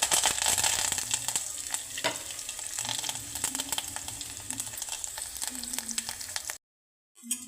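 Cumin, urad dal, chana dal and curry leaves sizzle in hot oil as a tempering, a steady close crackle with light stirring that cuts to silence near the end.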